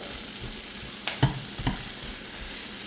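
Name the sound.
onions and garlic frying in a pan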